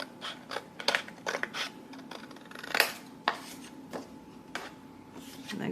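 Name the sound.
cutting scrapbook paper pieces for a mini album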